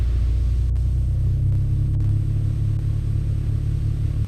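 Mooney M20C light aircraft piston engine coming up from idle, a steady loud low rumble with a constant drone that holds evenly throughout.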